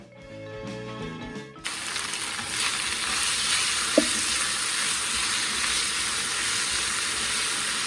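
Beef steak and asparagus stir-fry with oyster sauce in a hot pan, a loud, steady, hissing sizzle that starts abruptly after a short musical intro and carries on unbroken, with one brief clank near the middle.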